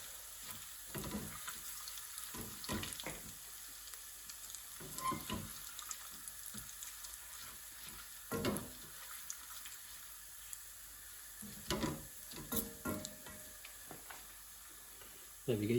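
Garlic and ginger fry quietly in a pan with a soft, steady sizzle, broken by occasional louder clatters and stirring scrapes.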